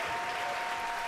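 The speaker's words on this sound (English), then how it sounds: "you can hear the cheers behind me" A crowd at a SpaceX rocket launch broadcast keeps up a dense wash of applause and cheering, fairly faint and heard from a distance, with a steady tone running beneath it.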